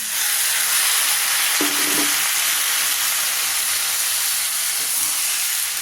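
Khichuri of rice with fried potato and pointed gourd stirred in a pan, a dense, even hiss of frying and steam filling the whole stretch, with a brief clink of the spoon near the start, close and continuous.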